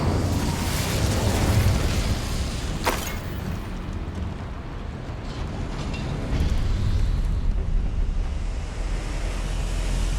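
Incendio fire spell cast in Hogwarts Legacy: a roaring, rushing whoosh of flame fills the scene, with a sharp crack partway through, then a steady rumbling blaze that swells again.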